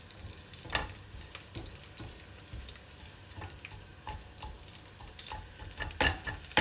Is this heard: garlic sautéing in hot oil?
yes